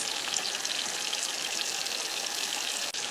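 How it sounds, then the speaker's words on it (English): Tap water runs steadily from a bathroom faucet as hands are washed, a constant close hiss with no talking over it. "I thoroughly wash my hands."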